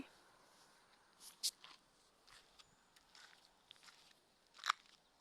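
A couple of sharp, crisp crunches a few seconds apart as a pig bites into firm fruit, over a quiet outdoor background.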